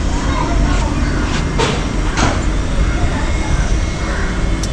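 Diesel engine of the Ooty toy train on the Nilgiri mountain railway rumbles steadily up close, a loud, low, continuous drone with a few brief higher bursts on top.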